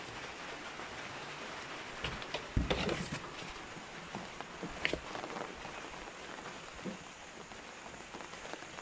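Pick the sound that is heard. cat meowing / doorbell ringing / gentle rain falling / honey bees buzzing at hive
gentle rain falling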